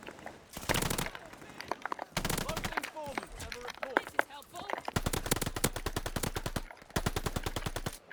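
Call of Duty gunfire comes in several rapid automatic bursts of loud, dense machine-gun shots separated by short pauses, with someone talking over the shooting.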